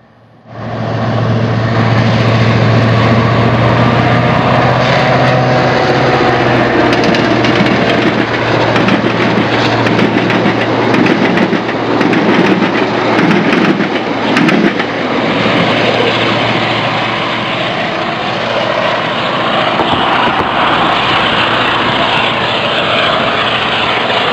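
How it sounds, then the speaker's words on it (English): A loud, continuous engine roar with a steady low drone as a heavy DBR-class diesel locomotive, number 1254, speeds past a junction close by on the Rotorua Branch Line, New Zealand, holding near-constant volume throughout. "here's DBR 1254 speeding past the junction"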